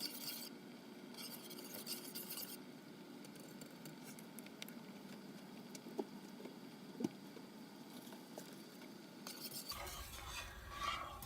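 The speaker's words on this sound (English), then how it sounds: "I'm going to stir it and boil it for a little while" Roasted garlic and onion soup being stirred as it boils in a pot, a steady scraping stir over a soft bubbling, sizzling bed, with a brighter burst of activity near the end.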